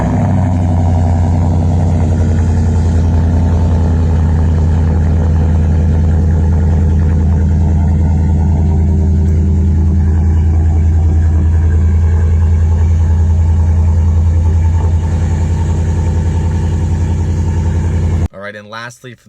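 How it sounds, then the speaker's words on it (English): Ford F150 with a 5.0L V8 and Flowmaster Outlaw exhaust, loud and close, holding a deep, rumbling idle with a steady low throb for about eighteen seconds before cutting off abruptly. "Flowmaster Outlaw system is super loud"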